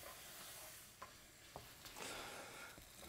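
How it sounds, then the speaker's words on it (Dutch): Flour being stirred and fried in a pan for Chinese-takeaway babi pangang sauce, a quiet soft sizzle with a few scraping stir sounds and no talk. "we er 2 eetlepels bloem, gewoon tarwebloem, bij doen. Dat gaan we ook nog even 1 minuutje mee bakken"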